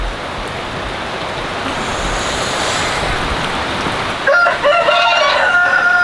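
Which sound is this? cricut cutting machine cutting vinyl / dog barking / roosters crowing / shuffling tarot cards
roosters crowing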